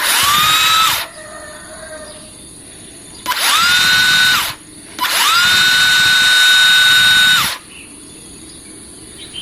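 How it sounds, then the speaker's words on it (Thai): A Dongcheng DC cordless impact driver running on a 2 Ah battery gives three loud bursts of high, steady motor whine. Each burst spins up quickly and then cuts off, with short quiet gaps between them. "เรามาฟังเสียงของตัวเครื่องดูนะครับว่าจะเป็นยังไงมานะครับ"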